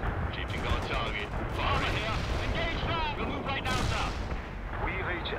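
Dense, continuous battlefield gunfire and artillery blasts from the strategy game World in Conflict, with rapid shots and booms layered thickly throughout, while radio-style voices speak over the din.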